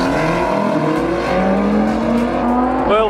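A BMW M5 and a Porsche GT3 launch off the line at a drag race start. Loud, close engines roar and climb in pitch together, ending with a sharp rising rev.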